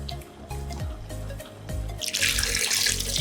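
Water poured from a tap or jug into a Ghanaian dzenkple base of powdered shrimp and herrings, a steady splashing stream that grows louder and brighter toward the end, close by with no talking.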